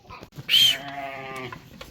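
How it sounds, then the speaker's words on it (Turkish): A newborn lamb on a farm gives one clear, fairly loud bleat with a wavering tone, set against quiet barn background noise. "Arkadaşlar aa, bir tane kuzumuz doğmuş."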